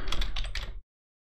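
Computer keyboard typing comes as a quick, close burst of key clicks lasting under a second, then stops abruptly into silence.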